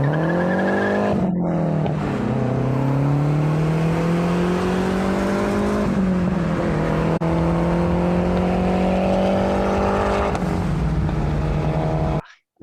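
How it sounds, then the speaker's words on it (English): A car with its final exhaust setup revs loudly and continuously for about twelve seconds, the engine note climbing and dropping through several rising sweeps, with a sharp hiss partway through and an abrupt cutoff at the end. "just gets a nice clip of actually hearing what this car sounded like with the final exhaust iteration"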